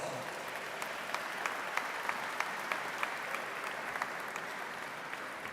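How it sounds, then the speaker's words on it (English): A large commencement crowd applauds as college leadership stands, a steady, fairly distant wash of clapping with a few sharper claps standing out, continuing evenly throughout. "Let's give them all a round of applause"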